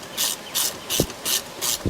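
Repeated ratchet strokes tighten a fastener during a Tesla Model 3 touchscreen replacement, five bright clicking bursts in an even back-and-forth rhythm, close and clear, with a soft knock in between.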